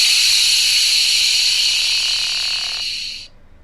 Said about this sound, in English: It's kind of like steam escaping.